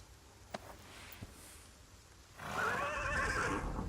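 A couple of soft clip-clop hoof taps, then a horse in the video game The Pillars of the Earth gives a loud, wavering neigh that carries to the end.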